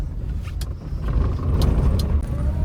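Steady road traffic at a busy market street in the PWD Society area, with lines of cars passing nearby as a continuous low engine rumble, a few brief higher swishes and clinks on top.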